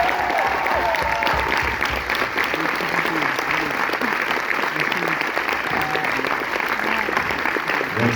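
Dense, sustained applause from a large audience fills a film premiere hall, steady and loud throughout with faint cheering mixed in.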